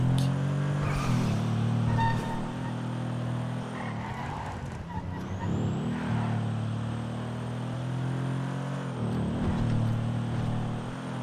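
Car engine revving in GTA roleplay, a steady droning motor with rising and falling revs and tire squeal, persisting throughout at moderate level with faint talk underneath.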